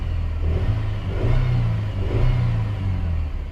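A Chevy S10 with the 2.2 engine, just fitted with a new EGR valve, revs up close by in a few steady swells and then settles back down, loud and continuous with no talking.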